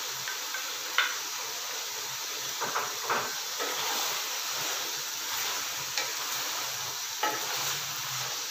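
Garlic sizzling in a pan with steady stirring, added after salt while cooking chicken curry; a continuous soft frying hiss with occasional scrapes and clicks of the spoon, no talking.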